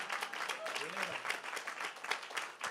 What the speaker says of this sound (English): Y'all ought to clap better than that.